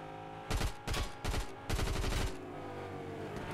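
SMG bursts in Fortnite, four rapid loud strings of automatic fire separated by short pauses, the last burst longest, then a quieter tail of game ambience.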